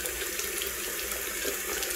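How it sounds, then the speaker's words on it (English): A bathroom sink faucet runs steadily for hand washing, a continuous close hiss of water splashing into the basin with no pauses. "turn on the water to wash my hands"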